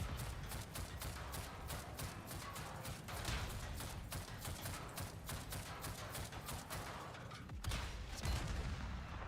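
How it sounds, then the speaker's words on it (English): Tank cannon fire in the video game World of Tanks, a dense run of sharp blasts and booms repeating quickly over a continuous rumbling battle background. "It's like a small cannon."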